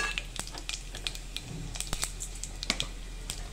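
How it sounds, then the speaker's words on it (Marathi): Cumin seeds sizzle in hot oil for a kadi pakora, a dense crackling fizz with scattered sharp pops over a low steady hiss. "आता तेलामध्ये आपण जिरं टाकणार आहे।"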